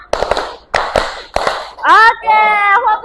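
Classroom children clap a rhythmic pattern: three quick groups of sharp, loud claps, then a burst of children's voices calling out together.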